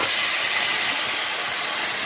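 Water poured into a hot pan of fried sago for Tamil milk payasam sets off a loud, steady broadband hiss of steam that stays constant and close throughout, with no talking.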